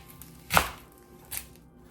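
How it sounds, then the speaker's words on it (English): An onion is sliced in half with a knife on a cutting board, giving one sharp, close thunk followed by a softer second knock against the board. "I'm gonna take my onion and I'm gonna cut it in half."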